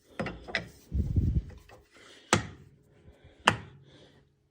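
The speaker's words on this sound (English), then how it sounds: "it's going to spin it right onto those spindles there" Wool and fiber mill spinning machine winding fiber onto spindles, giving sharp mechanical clacks and ratcheting knocks at irregular intervals over a low rumbling whir, close and moderately loud.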